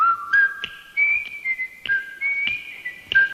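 Someone whistles a TV opening theme alone, a bright, clear melody in short phrases with brief breaths between notes.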